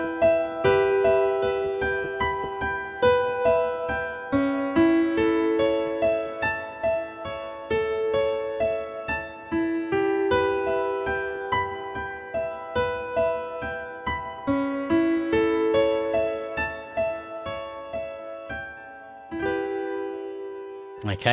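Arturia Augmented Grand Piano software preset played alone in a continuous melodic passage of layered notes and chords, sustained and resonant at a steady moderate level.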